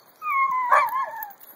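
A puppy in a dog yard gives a single drawn-out whimpering howl lasting about a second, rising and wavering at its peak, close by with no talk over it.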